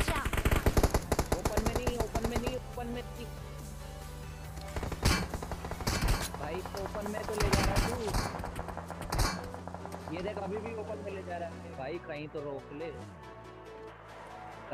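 Gunfire in the PUBG Mobile game: rapid automatic bursts crowd the opening seconds, then scattered shots and thuds continue under a voice and game sounds.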